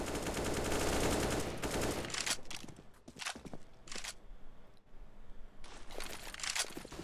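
Two grenades blast at the Barrel spot on Counter-Strike's Overpass map during a competitive match, giving a loud burst of explosive noise followed by sharper cracks and scattered impacts, close and dense, with no talk over it.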